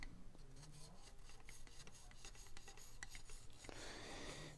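A knife blade scrapes across the stone of a Smith's Precision Sharpening System on a fine grit, with steady rhythmic rasping strokes repeated close up in a quiet room.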